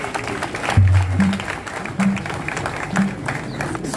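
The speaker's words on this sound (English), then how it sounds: "A round of applause for him." At a political party gathering, a crowd claps sparsely and moderately, the claps carrying an echoey, boomy room sound with low thumps breaking through at intervals.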